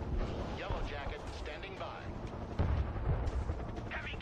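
Explosions from a bombing run in the video game Broken Arrow, a heavy burst of booms and rumbling impacts, loudest near the end, with players talking over the blasts.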